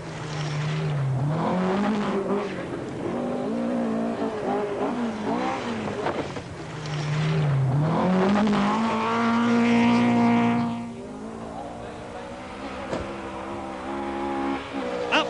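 A Vauxhall rally car races a special stage at the 1980 Welsh Rallysprint, its engine revving and sweeping through gear changes with rising and falling pitch, fairly close and loud, with no talk over it.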